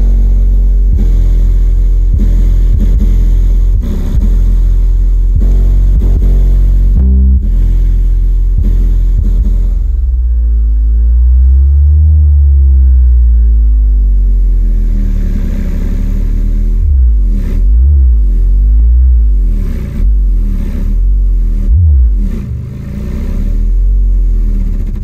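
A 6.5 inch Savard Hi-Q subwoofer driven by an ARC Audio FD2200 Class AB amplifier plays loud, deep bass tones that sweep and pulse steadily through the whole stretch, with no talking.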